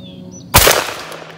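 A single loud, sharp blast from a 28 gauge semi-automatic shotgun firing a handloaded number 4 buckshot shell, with a short echoing tail that fades over the next second amid quiet outdoor range ambience.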